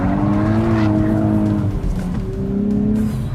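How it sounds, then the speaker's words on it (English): A 2023 Nissan Z's engine roars loudly as its tires squeal through a sustained power slide, the engine pitch wavering before rising again. "technically that was a power slide, okay? Got sideways after the apex."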